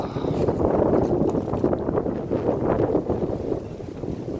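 Cold outdoor wind, near freezing, buffets the microphone in a steady broadband rumble with gusts rising and falling throughout, loud and close with no talk.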